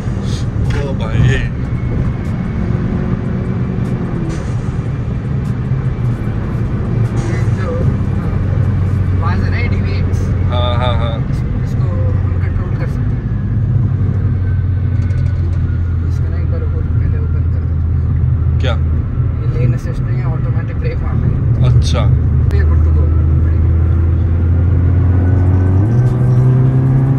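A modified Skoda Octavia vRS drives hard, its engine droning loud and close, with whistling turbo hiss rising and falling over the rumble while people talk throughout.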